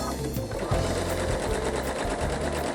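A sewing machine stitches cutting guides onto stabilizer alone, with a fast, steady mechanical rattle of the needle running close and loud throughout.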